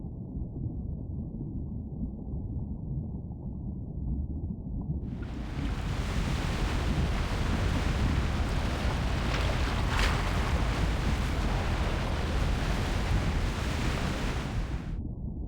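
Powerful sea waves in the game Love and Deepspace, a loud continuous roaring wash that starts as a low rumble and then surges into a broad crashing hiss lasting about ten seconds before easing back.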